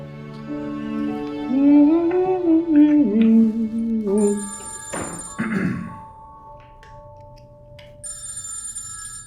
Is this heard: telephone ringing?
yes